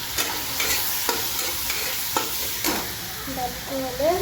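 Potatoes sizzle in a home kitchen pan while a utensil scrapes and stirs in sharp, repeated strokes over the steady frying hiss, with a few squeaky scrapes near the end.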